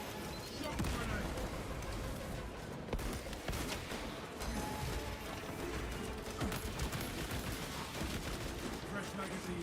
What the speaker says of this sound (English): Shock grenade.